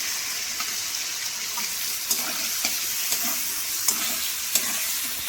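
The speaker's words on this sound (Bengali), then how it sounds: "এই মশলাগুলো এখন কষাবো" Ground spice paste sizzles steadily in a hot frying pan after fried potatoes, for a vegetarian jackfruit curry, with a continuous hiss broken by soft, regular stirring scrapes close by.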